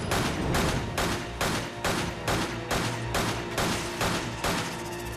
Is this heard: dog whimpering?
no